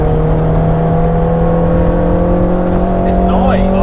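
Inside a Toyota AW11 MR2, the 4AGE four-cylinder engine holds a steady, loud buzzing rev with a droning whir at constant throttle, and a brief faint passing sound near the end.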